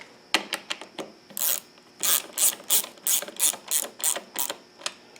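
Wrench ratcheting to tighten the clutch adjusting screw lock nut on a motorcycle, a rapid series of close, crisp mechanical clicks that settles into a steady rhythm of about a dozen even strokes.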